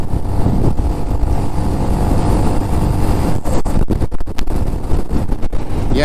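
A 2022 Honda Monkey 125 motorcycle cruising at about 50 mph, its engine droning steadily under heavy wind rush and buffeting on the microphone, loud and continuous with no talking.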